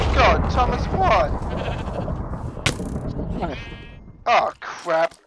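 A sheep in a blocky video game bleats several times, with short nasal cries in bursts that are louder near the end, while people talk over the game sounds.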